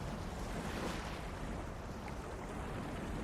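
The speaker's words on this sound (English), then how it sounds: "I can hear wind blowing and waves crashing." Steady outdoor wind noise at the seaside with the broad wash of surf, a continuous rushing roar without distinct breaks.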